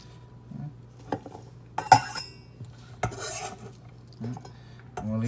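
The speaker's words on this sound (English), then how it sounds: "We're just gonna put this inside the bowl." Julienned onion strips, about half an inch thick and two inches long, drop into a bowl in a kitchen, giving a few soft clinks and scrapes of utensil against dish, close and sparse, with no talk.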